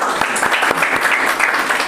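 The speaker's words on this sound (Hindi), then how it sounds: "क्यों ना हम उनको के लिए भी जोरदार ताली बजाएं" Applause fills a Sunday evening church service as the congregation claps loudly for welcomed guests, a dense steady patter of many hands with a few sharper claps standing out, no talking.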